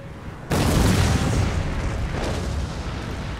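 Artillery cannon fire in the game Empire: Total War, a sudden heavy boom followed by a rumbling volley of overlapping blasts that slowly fades.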